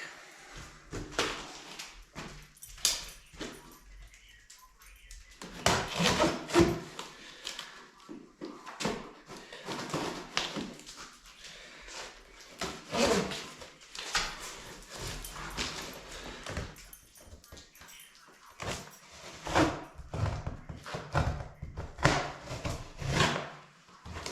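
Shipping boxes being opened up close: irregular cardboard rustles, flap bends, scrapes and soft knocks that come in uneven bursts over about twenty seconds, with no speech.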